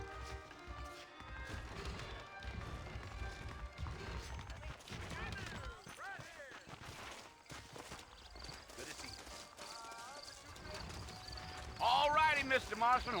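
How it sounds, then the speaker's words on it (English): Horse hooves clip-clop along at a steady pace in the Western video game Red Dead Redemption, sitting beneath a music score and characters talking, with a louder burst of noise near the end. "Guess it's time to take those horses then."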